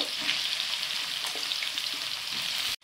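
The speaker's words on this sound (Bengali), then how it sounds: "এবার আমি এগুলোকে এঁচোড় আর আলুগুলোকে ভেজে নেব" Green jackfruit pieces frying in hot oil in a wok, giving a steady, close, bright sizzle with faint crackles throughout, cut off abruptly at the end, with no voices.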